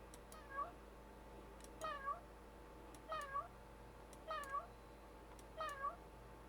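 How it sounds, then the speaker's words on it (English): A cat meow sound effect in a video game, triggered by clicking on the cat, repeating five times at roughly one-second intervals, each a short clear meow over faint background hum. "There is a meowing sound coming out."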